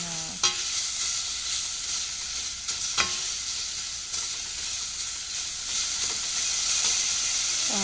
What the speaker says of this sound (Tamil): அதையும் இப்போ வதக்குங்க நல்லா.